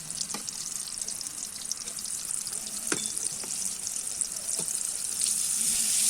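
Kamote (sweet potato) steak fries in a pan with a steady, close hiss of sizzling oil, broken by a few sharp crackles and pops and faint stirring clatter, with no talking.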